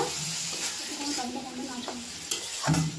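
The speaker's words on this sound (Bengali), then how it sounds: "এবার এটাকে ভালো করে কষিয়ে নেব" A paste of tomato, green chili and ginger fries in a pan with a steady sizzle while a spoon stirs and scrapes it, a sharp knock against the pan near the end, close and fairly loud.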